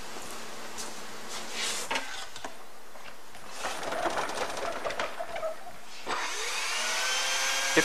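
A vacuum draws loose bees off wooden-and-screen honeybee package cages in a shipping warehouse, giving a steady whooshing suction hum that rises and falls with passes and swells louder near the end.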